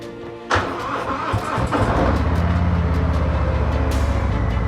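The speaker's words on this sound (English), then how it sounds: "Let's get this bike fired up and get on the road." A motorcycle engine cranks with a sharp starter burst, catches, then settles into a steady loud idle rumble close by, with no talk.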